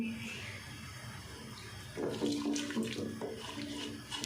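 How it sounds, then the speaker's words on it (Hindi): About one and a half cups of water are poured into a pot of mutton khichda with rice and lentils. A soft splashing stream starts partway through and runs steadily to the end. "पानी ऐड कर देंगे।"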